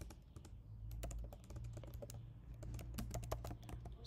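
Rapid typing on a computer keyboard, close and clear, with quick uneven clusters of keystrokes over a quiet low room hum.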